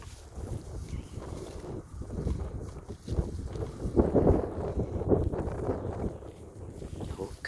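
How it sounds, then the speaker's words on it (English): Cold, bitter wind gusting outdoors, a steady rushing roar with rumbling buffets against the microphone that swell louder midway through, continuous across the scene. "Whew, the wind is bitter."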